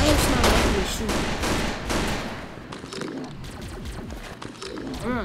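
Gunfire in the Roblox game Ragdoll Engine crackles in rapid, uneven bursts of sharp shots, loud at first and thinning out, with a player's voice talking alongside.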